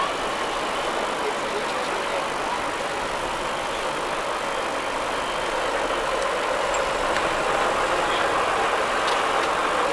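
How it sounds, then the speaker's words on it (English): An Atkinson Defender 8-wheel tipper truck idles at a road run, a steady mid-pitched engine rumble with a faint knock running evenly throughout, close by and fairly loud, with no speech over it. "this Atkinson Defender 8-wheel tipper"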